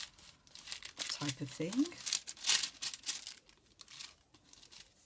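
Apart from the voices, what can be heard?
glassine bag of paper ephemera crinkling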